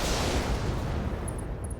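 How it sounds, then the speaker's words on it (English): A mech fires AC5 autocannon shots in RogueTech, a dense, loud burst of booming rounds that rolls on steadily and slowly fades, with no voices over it. "we managed to miss both of those AC5 shots"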